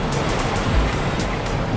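Rushing water noise from a Western-themed Gold Fever roller coaster in Planet Coaster, a steady broadband wash with a heavier surge near the middle, close and fairly loud, no talk.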